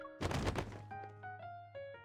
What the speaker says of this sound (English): the stack of books in my arms topples over with a thud